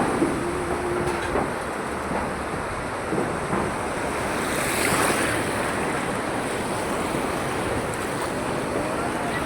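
Heavy rainfall and floodwater in Sharjah, UAE, make a loud, steady rushing wash that never lets up, with wind buffeting the microphone throughout and no one speaking.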